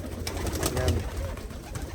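Pigeons in a backyard loft coo softly, a few low throaty murmurs close by amid rustling background noise.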